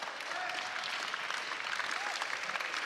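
Melbourne Tigers basketball fans applauding at the 2018 National Junior Classic under-18 boys grand final, steady indoor clapping from a crowd that holds at an even level throughout.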